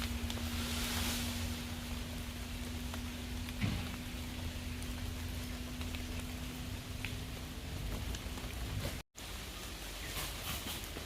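Heavy rain pours steadily over a hilly oil palm plantation, a dense, even hiss of downpour close around with a faint low hum beneath and no voices.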